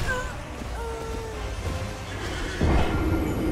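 Horse neighs in the Elden Ring video game, a couple of whinnying calls with a louder thudding burst near the end, set against a dense game soundscape.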